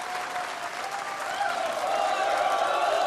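A snooker crowd at the Xi'an Grand Prix applauds a match win, sustained clapping that builds slightly and holds steady throughout.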